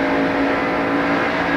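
NASCAR stock cars race at the 1990 Transouth 500, a dense continuous engine roar at a steady high pitch throughout, loud and unbroken, with no commentary heard over it.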